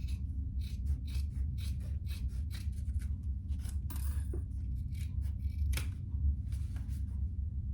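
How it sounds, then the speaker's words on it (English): Scissors trim the edges of fabric pieces for a crossbody bag, producing a close, steady series of soft snipping and rasping cuts with no talking. "I am gonna do some trimming"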